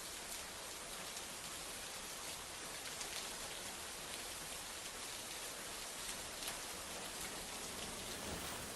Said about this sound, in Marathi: धुवाधार पाऊस बरसतोय